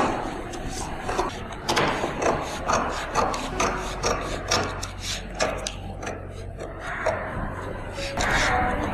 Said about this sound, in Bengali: এবার ড্রেসিং হুইলটা কিভাবে চালাতে হয় আমি দেখিয়ে দিচ্ছি